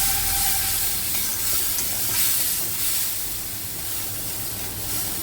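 Spice paste sizzles and hisses in a pan after water is added, a loud, continuous frying hiss close up that eases slightly toward the end, with no voices.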